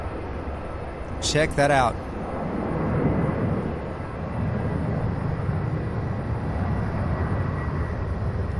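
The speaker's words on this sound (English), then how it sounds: "I believe on the other side there's an MD-11 taking off." An MD-11 cargo jet takes off at SDF in Louisville, Kentucky, its steady distant roar rising and holding as a broad rumble after a short spoken remark near the start.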